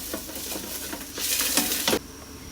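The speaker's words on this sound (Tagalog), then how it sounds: "Gisa na natin ang bawang, guys." Garlic sautéing in a pan: a steady hiss and patter of sizzling that swells louder midway, with light stirring scrapes, then abruptly drops back to a quieter sizzle.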